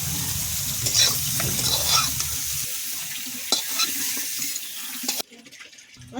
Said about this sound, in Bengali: ফুলকপিটা লাল লাল করে ভেজে নেব